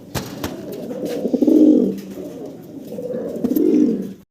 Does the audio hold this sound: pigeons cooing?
yes